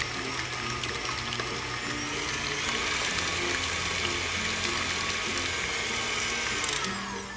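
An electric mixer whirs steadily through no-bake strawberry cheesecake filling, a continuous close whine with a slightly wavering pitch and no talking.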